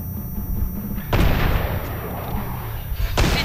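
A frag grenade bursts with a heavy boom in the zombie shooter Killing Floor 2, then a second blast hits near the end, both over a dense, roaring combat backdrop.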